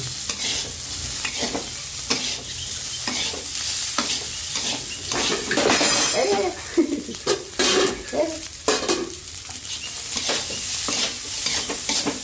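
Steady scraping and stirring in a hot pan, with a continuous sizzle of nasi goreng (fried rice) frying without oil and occasional metallic clinks of a utensil against the pan.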